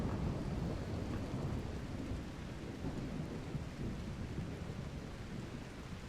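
Steady rain pours with low rumbling thunder throughout in the video game RimWorld, a dense, continuous wash of noise at even loudness with no talking.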